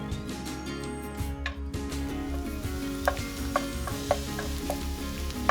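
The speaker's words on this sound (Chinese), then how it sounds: "热锅里放少许油，先放入蒜末，把它炒香" Minced garlic stir-fried in a little oil in a hot wok, a steady close sizzle with intermittent scraping and clicking of a spatula stirring, no voices.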